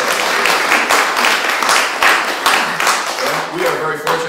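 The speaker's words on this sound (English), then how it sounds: "But let's give him a round of applause." An audience at an opera panel discussion applauds in a steady, moderately loud patter of clapping that thins out toward the end, with a voice speaking over it.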